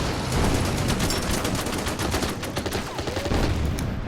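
Dense, sustained volleys of wartime gunfire pour onto heavy infantry in a WWII strategy game set around Tobruk, crackling loudly and continuously with overlapping bursts and no talk.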